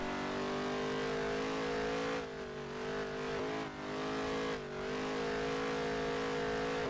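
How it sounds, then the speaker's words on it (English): A NASCAR Heat 3 race car engine screams at high, steady revs while pinned against the rev limiter, with a few brief dips and stutters as it bounces off the cut, loud and close with no talking. "it hit the rev limiter down the drag strip"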